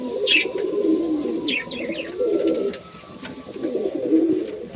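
Indian Andalusian pigeons coo in soft, repeated rolling phrases, close and fairly clear, with a few brief higher chirps and light flutters between the calls.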